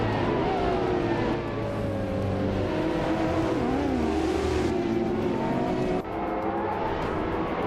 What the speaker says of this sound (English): the race has kicked off at Zandvoort Club and Jacinda Box is starting on pole in a 2012 Ferrari 599 X Evolution